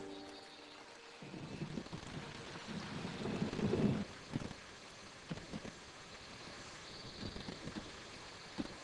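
Heavy monsoon rain falling steadily with a rolling rumble of thunder that builds and peaks before fading, faint background hiss throughout and no voices.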